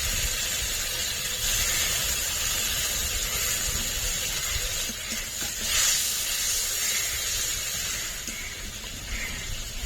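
Ground cumin paste, dry red chili paste and spice-rinse water hit a hot pan for a Bengali stingray and potato curry, giving a loud, continuous hiss and sizzle that holds steady throughout.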